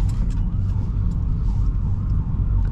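An ambulance siren approaches from behind on a Puerto Plata street, its wailing tone rising and falling under the heavy, close rumble of road traffic and engine noise.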